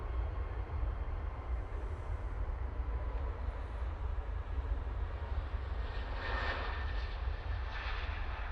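A Swiss Airbus A220-100 from Zurich arriving on runway 05 right at Manchester Airport, a steady broad jet roar heard from a distance, even and sustained throughout with no talking.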